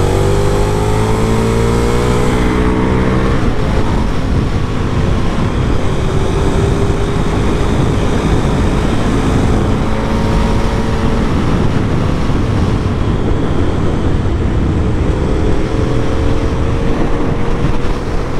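A 2006 KTM SuperDuke 990 motorcycle engine drones steadily while riding, with rising and falling tonal sweeps as it shifts and revs, heavy wind roar throughout, loud and continuous, no talking.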